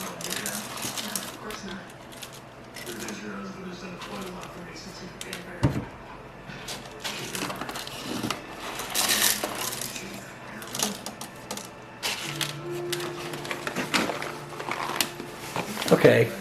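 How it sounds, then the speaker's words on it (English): Two kinds of coffee beans are poured and stirred together, giving irregular rattling, clattering and rustling bursts at close range, with a voice talking intermittently over them. "Yes, I am mixing 2 different kinds of beans together."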